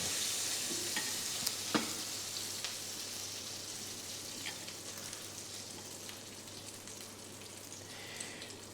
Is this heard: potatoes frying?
yes